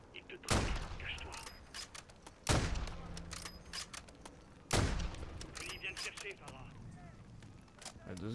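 Automated turret gunfire in Call of Duty Modern Warfare 3, with three loud bursts about two seconds apart over a busy battle backdrop, someone talking throughout.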